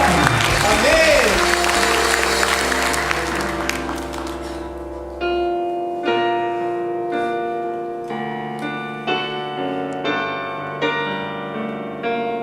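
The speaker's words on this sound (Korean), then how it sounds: "이 영광 박수 올려드리겠습니다" A crowd applauds loudly for several seconds, then the clapping fades as music with sustained tones takes over.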